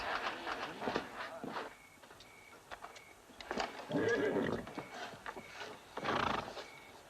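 A horse whinnies in a couple of loud, shrill bursts, with hooves clopping and shuffling nearby between the calls.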